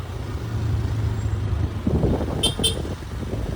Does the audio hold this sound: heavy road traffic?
yes